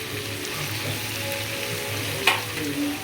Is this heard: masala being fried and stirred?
yes